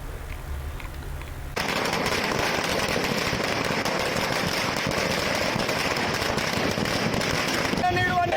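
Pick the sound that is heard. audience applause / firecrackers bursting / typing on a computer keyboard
firecrackers bursting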